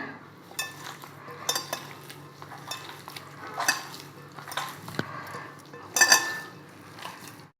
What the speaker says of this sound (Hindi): इन्हें अच्छे से हम मिक्स कर लेंगे।